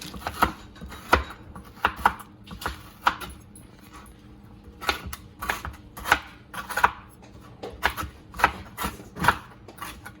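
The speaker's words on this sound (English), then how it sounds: "And then I'm going to cut up my Kit Kat pieces." Kit Kat bars being chopped with a knife on a cutting board, a string of crisp irregular knocks and crunches, some in quick bursts, close by with no talking.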